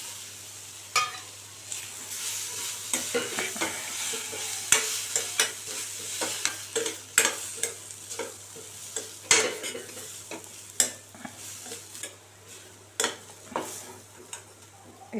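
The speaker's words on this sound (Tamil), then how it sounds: "இப்போ இதை சேர்த்து நல்லா கிளறி விட்டுடலாம்." Sweet potato masala stirred in a pan, a steady frying sizzle broken by sharp, repeated scrapes and taps of the spoon against the pan, fairly close, with no voices.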